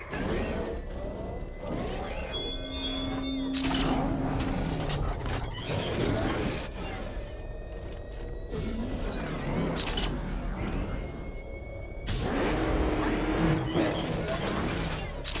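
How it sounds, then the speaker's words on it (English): A vehicle in the game Batman: Arkham Knight swerves and crashes, with loud impact bursts and mechanical scraping over a steady rumbling engine, and a voice speaking briefly among the effects. "The Arkham Knight's vehicle swerved and crashed up ahead."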